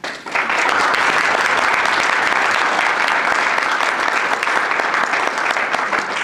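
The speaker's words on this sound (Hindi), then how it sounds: "ये जो तालियां आपने बजाई ये मेरे लिए थी" A full round of applause comes from the audience at an Urdu literary evening in Atlanta. It starts abruptly and then holds loud and dense, a close, continuous wash of many hands clapping.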